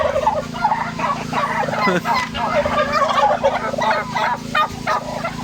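Turkeys on a farm gobble in busy, overlapping bursts close by, a noisy flock chattering continuously with no pauses.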